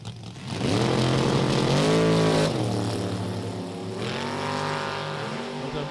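A Vega and a Chevy S10 drag race cars launching off the line at a drag strip, loud roaring engines rising sharply in pitch, shifting, then climbing again as they pull away.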